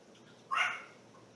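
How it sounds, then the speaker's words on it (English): A frightened puppy, scared of the rain, lets out a single short, close whimper that rises and fades in under a second against a quiet background. "This is my puppy."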